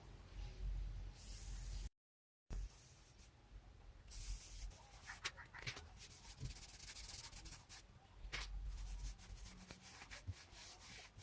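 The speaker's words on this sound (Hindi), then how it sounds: "आपने देखा ये कितने आसानी से ये इतना हिस्सा हमने पॉलिश कर लिया है" A cloth pad dipped in homemade polish is rubbed over wooden furniture, giving soft, repeated scrubbing and swishing strokes close by. One brief pause breaks the rubbing, and there is no talk.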